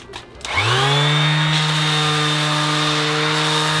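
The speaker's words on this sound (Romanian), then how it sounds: "acum avem șlefuitorul cu plăci" An orbital sander whirs up quickly, then holds a loud, steady buzzing drone as it works across pallet wood, close by.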